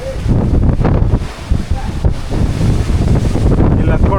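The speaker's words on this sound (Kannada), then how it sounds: "ತುಂಬ ಗಾಳಿ ಇದೆ." Strong monsoon wind buffets the microphone at the hilltop viewpoint of Kote Betta, a loud, constant roaring rush with gusty swells and no pauses.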